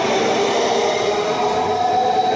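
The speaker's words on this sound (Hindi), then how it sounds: "अब ये मेट्रो जा रहा है।" A Delhi metro train pulling away from a station, its steady broadband rumble and hiss holding close and loud throughout with no voices.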